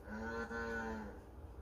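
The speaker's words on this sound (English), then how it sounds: "Here's a cow moo." A cow moo played through an Alexa smart speaker: one long, steady, low bellow lasting over a second, clear and close, with no voice over it.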